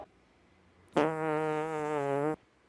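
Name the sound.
loud fart, comedy sketch sound effect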